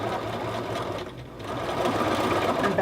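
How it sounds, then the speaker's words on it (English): A sewing machine runs steadily and close up, stitching the bottom of a princess seam with a continuous whirring hum and only a brief dip in speed partway through. "you just need to sew the bottom"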